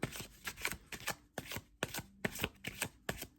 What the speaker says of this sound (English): Let's start with the tarot now. I'm going to go ahead and give this a shuffle.